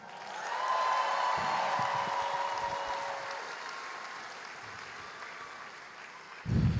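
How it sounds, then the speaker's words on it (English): Graduation ceremony crowd applauds in a large hall, a steady, moderately loud roar of clapping that builds quickly and slowly tapers over about six seconds. "Another round of applause."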